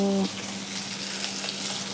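Food fries in a pan on a home stove with a soft, steady sizzle and crackle throughout, fairly quiet, after a brief tone at the very start.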